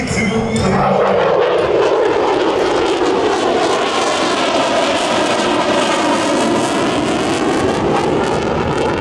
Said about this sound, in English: the pilot will execute a photo pass showing the profile of the aircraft while banked in afterburner.